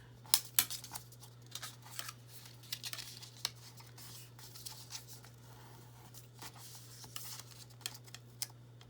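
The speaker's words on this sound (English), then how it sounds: "if you trim those sides up on the tabs, it'll be easier to fold" Scissors trim the sides of paper tabs on a craft bento box, producing faint, scattered snips and rustles against a low steady hum.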